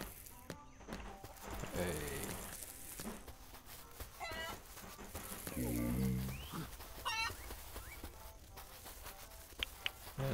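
Chickens cluck and crow on a farm in the video game Dinkum, with scattered bird calls and footstep-like shuffles over a faint background bed across about ten seconds.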